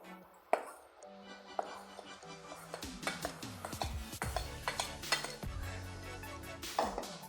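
Cake batter with flour mix being beaten in a bowl, with repeated quick clinks and scrapes of a utensil against the bowl that start sparse and then settle into a busy, uneven rhythm.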